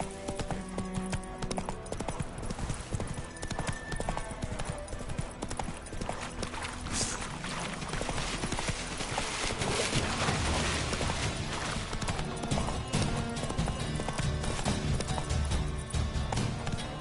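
Roach, Geralt's horse in The Witcher 3 video game, gallops with a dense, continuous clip-clop of hooves, loud and close, over game music and ambience throughout.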